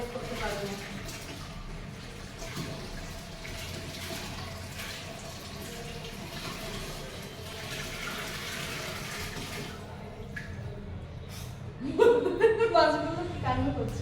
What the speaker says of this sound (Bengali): আর একটু না অনেকটাই জল দিতে হবে, দিচ্ছি।